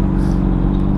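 A car engine rumbles close by in a steady, low drone, without clear rises in pitch, for about a second with no talking.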